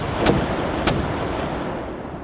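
Naval gunfire from the battleship Shikishima in a war game, two muffled booming shots a little over half a second apart over a steady rumbling background.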